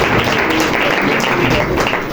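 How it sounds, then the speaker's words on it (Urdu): Steady, dense applause for a girl from a gathered audience, with voices mixed in. "اس بیٹی کے لیے تالیاں ہو جائیں"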